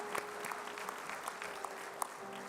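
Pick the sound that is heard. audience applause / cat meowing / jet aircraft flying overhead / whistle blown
audience applause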